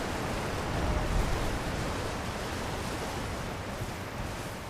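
Waterfall in the video game Elden Ring, a steady broadband rushing wash that holds even and moderately loud throughout with no voices over it.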